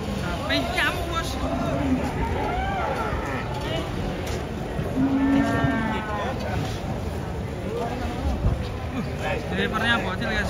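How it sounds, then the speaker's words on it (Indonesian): An agitated cow being unloaded from a truck, with loud drawn-out moos rising twice over a busy mix of voices and vehicle noise, people talking excitedly throughout. "Ada sapi ngamuk guys"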